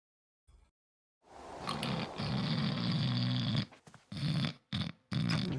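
During a tabletop role-playing game session, a voice imitates loud snoring with rough, rumbling, growly breaths in uneven bursts and short pauses between them.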